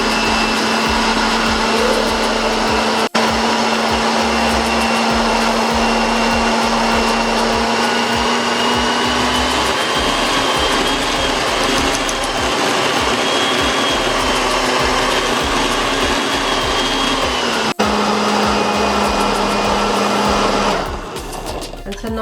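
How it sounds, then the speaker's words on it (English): A kitchen blender runs loud and steady, chopping green seasoning with garlic, onions and peppers in a continuous high whir with a faint brief break, then cuts off near the end. "get this all blended up together with the garlic and onions and peppers"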